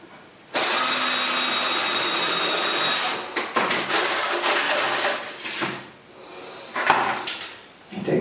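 A power drill or driver runs steadily for a few seconds, driving a screw into a wooden stand, then slows and stops in short bursts and whirs, loud and close with no talking.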